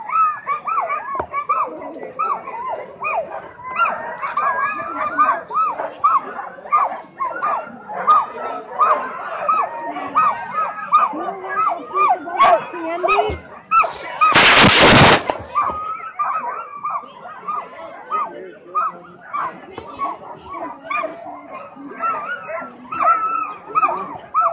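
Iditarod sled dogs at the 2017 ceremonial start bark and yelp continuously from close by, a busy chorus with a sharp burst of crowd noise near the middle, while people talk over it.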